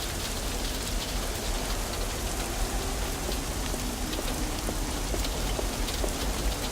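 Steady rain in the video game Nibiru, an even, continuous patter of drops on surfaces with no voices, holding at a moderate level throughout.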